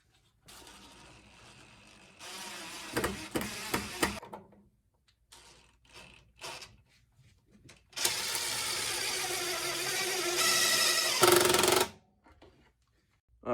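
Power drill driving drywall screws to hold a hose bib shutoff valve in place, several short whirring bursts followed by longer, louder sustained runs, close up with pauses in between.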